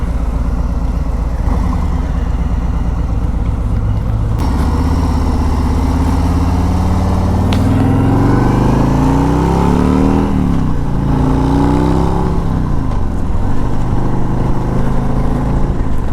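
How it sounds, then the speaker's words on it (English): A 2021 Harley-Davidson Street Glide Special with the Milwaukee-Eight engine and stock exhaust pipes rumbles loudly up close while riding, revving and shifting through rising and falling engine pitches. "they were able to bring up the volume level of the exhaust a bit, and they sound very good even with the stock pipes"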